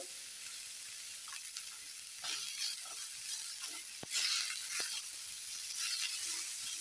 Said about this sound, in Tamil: வெங்காயத்தை லைட்டாக வதக்கிட்டு